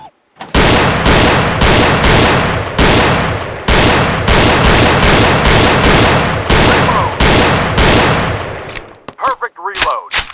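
Gunshots in the VR shooting game Gun Club VR, a loud rapid series of sharp blasts in quick bursts with short gaps, each shot ringing out, then a couple of metallic clicks near the end.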